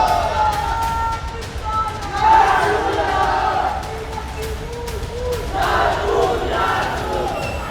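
A large rioting crowd marching through Nagpur streets during violent unrest, a dense roar of shouting and chanting voices rising and falling in waves, loud and close with no clear single speaker.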